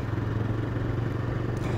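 A motorcycle engine running while riding a rough, winding mountain road, a loud steady low rumble with a faint rattle, no talking.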